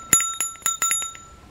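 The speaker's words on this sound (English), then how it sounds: "and then you got a little bell." A small metal bell from a diamond painting kit rings in a handful of bright, separate dings, close and clear with quiet gaps between them, with nothing else audible.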